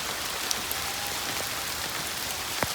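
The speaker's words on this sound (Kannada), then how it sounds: "ಈ ಮಳೆಯಲ್ಲಿ ಹೋಗ್ತಾ ಇದ್ದೀವಿ ಈಗ." Rain falls during a trek up Gadaikallu rock near Belthangady, an even, moderate hiss of drops with a few sharper taps nearby and no speech.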